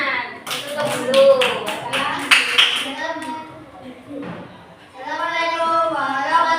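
Young schoolchildren in a classroom clap together in a quick, rhythmic burst of sharp hand claps. Chatter and a teacher's voice follow the clapping.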